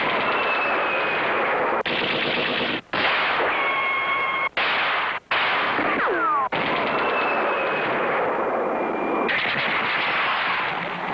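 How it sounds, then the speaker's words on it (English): Sound of Power toy military rifle by Marx, an electronic battle-sound toy, blares continuous loud bursts of machine-gun fire, whistling shells and explosions in changing segments with brief gaps, with no talk over it. "The Sound of Power military rifle and Western rifle by Marks. Each gun makes lots of battle sounds."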